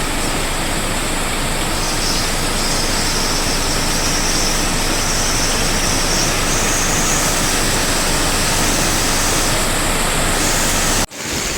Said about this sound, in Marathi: हा रस्ता आहे, त्याच्यावरून नदीसारखं पाणी वाहतं.